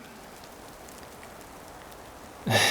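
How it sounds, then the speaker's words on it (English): Steady soft rain falls in a cold forest, a continuous gentle patter and hiss throughout, with a louder burst of noise right at the end. "It's raining."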